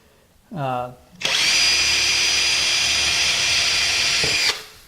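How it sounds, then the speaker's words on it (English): A short whining rev, then a power drill running continuously at high pitch for a few seconds, drilling a hole at an angle through hardwood flooring, before stopping abruptly. "I'm just going to go ahead and drill that hole"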